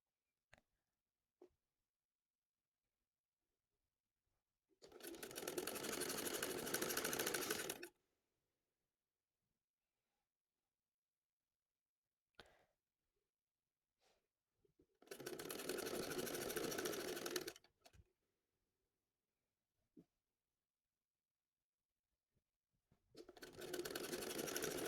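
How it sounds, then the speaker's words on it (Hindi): Sewing machine stitching a small baby shirt, with three separate runs of rapid, even mechanical whirring, each lasting about three seconds. Soft clicks and near silence fall between the runs. "इसके बाद ऐसे ही हम इसकी करते जाएंगे सिलाई।"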